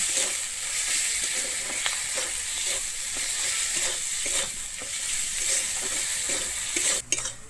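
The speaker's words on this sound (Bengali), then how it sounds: "আমি আর কালারের জন্য দিয়ে দিচ্ছি কাশ্মীরি লঙ্কার গুঁড়ো এবার ভালোভাবে এবারে কষিয়ে নেব" Spices sauté in a pan with Kashmiri chilli powder for Bengali-style dum aloo with small new potatoes: a loud, continuous close sizzle with rhythmic scraping of a spatula stirring, then a clatter at the end.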